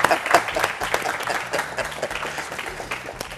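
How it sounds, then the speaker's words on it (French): An audience applauds a guest introduced as a national hero on a youth program, with dense clapping that starts strong and gradually thins and fades over a few seconds. "Merci de l'applaudir."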